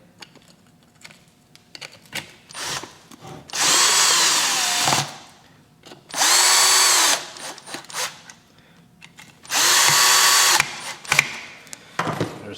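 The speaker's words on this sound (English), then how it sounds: "Go ahead and zap the screws in." A power driver zapping screws into a cleaned magneto cover on a Yamaha DT80 enduro motorcycle, with three loud, sustained whirring runs of a few seconds each, separated by quieter clicks and handling noises.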